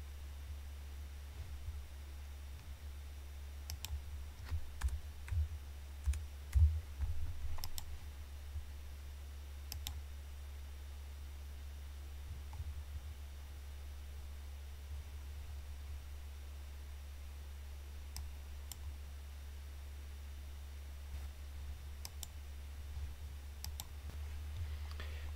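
A computer mouse giving a handful of faint, scattered clicks, a few of them bunched close together, over a steady low electrical hum and background hiss, with long quiet stretches in between.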